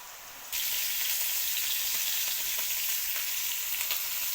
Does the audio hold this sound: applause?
no